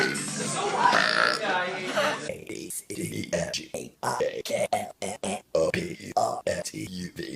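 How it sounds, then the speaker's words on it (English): A long drawn-out human burp rumbles loudly at first, then gives way to choppy, broken vocal sounds that may be the belch trailing off or laughter, close to the microphone. "Never ending burp."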